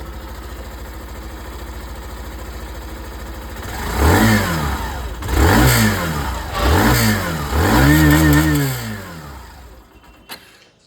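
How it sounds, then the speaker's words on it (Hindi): A Hero Glamour 125 Xtec motorcycle idles low and steady, then its exhaust blares through four sharp revs, each rising and falling back, before the engine quiets and shuts off. "मैं आप लोगों को जो एग्जॉस्ट साउंड है वो सुना देता हूँ"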